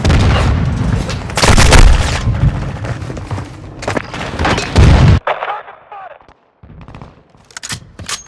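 Heavy booms and crackling gunfire from mortar strikes in Call of Duty: Modern Warfare II pound loudly for several seconds, then drop to sparse, fainter blasts with short gaps between them.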